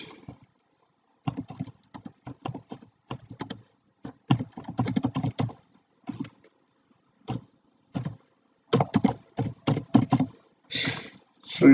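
Keys on a computer keyboard typed in quick bursts, entering an address into an online banking form; close, clicky keystrokes come in irregular clusters with short pauses, and nobody speaks.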